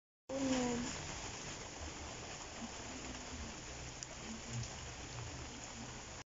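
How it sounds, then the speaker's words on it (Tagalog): Steady rain falls continuously at a moderate level, a constant hiss with no breaks and a short voice-like tone at the very start. "thank you Jehovah God sa pag-ulan bisan og summer karon"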